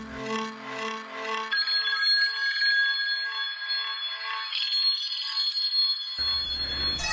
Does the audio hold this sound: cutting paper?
no